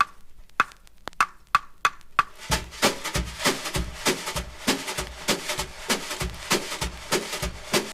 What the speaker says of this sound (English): So it's just like a percussion track that you can play along to.